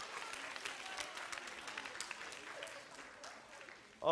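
Church youth group applauding, a modest, fairly faint patter of clapping that tapers off before a voice cuts in at the very end.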